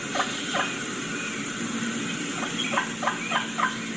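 Real wild turkeys calling outdoors, a scattering of short distant yelps and gobbles spread across the clip over a steady hiss of background noise, no one speaking.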